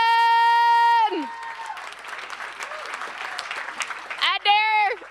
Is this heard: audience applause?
yes